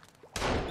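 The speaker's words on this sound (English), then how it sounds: "and all I hear is a gunshot" A gunshot in the survival video game Sons of the Forest, a single sudden broadband blast that bursts in after a quiet moment and rings on with a sustained, noisy tail.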